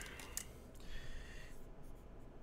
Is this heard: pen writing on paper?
yes